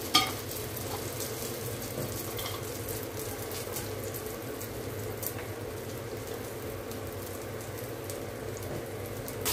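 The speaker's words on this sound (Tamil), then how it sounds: "இதை அப்படியே வறுப்படட்டும் பார்க்கலாம். நல்லா முறு முறுன்னு வறுத்து எடுத்துக்கணுங்க." Cluster beans coated in gram flour fry in a pan, giving a faint, steady sizzle and crackle with no one speaking.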